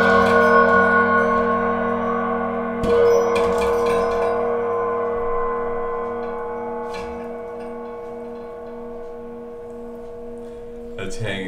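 Large hand-hammered Buddhist cymbals hanging from a ceiling ring out with long, sustained gong-like tones, struck a few times with sharp attacks and shimmering decays, alone without talk.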